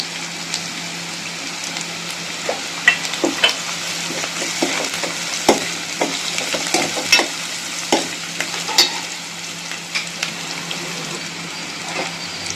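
Cumin and crushed garlic frying in hot oil for a Tamil wild greens thokku, a steady close sizzle broken by frequent sharp pops and spatters, with no talk.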